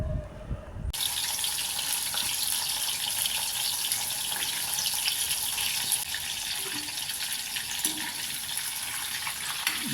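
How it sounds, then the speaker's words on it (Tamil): Prawns deep-fry to golden in hot oil, with a loud, dense, continuous sizzle that starts abruptly after a brief quiet moment and holds steady throughout, close and without talking. "இந்த மாதிரி ஃப்ரை பண்ணுறது எரா கோல்டு ஃப்ரைன்னு சொல்லுவாங்க"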